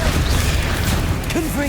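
The Incendio fire spell is cast in Hogwarts Legacy, a loud, continuous roaring whoosh of flame that fills the moment, with a voice speaking briefly over the blaze.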